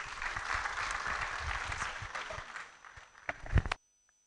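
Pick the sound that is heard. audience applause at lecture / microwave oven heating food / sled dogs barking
audience applause at lecture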